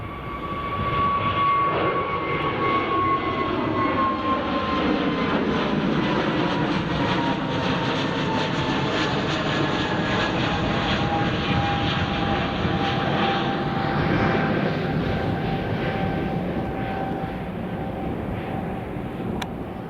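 British Airways airliner passing at Edinburgh Airport, a loud sustained jet roar with a rising and falling whine sweeping across as it goes by, fading slightly toward the end.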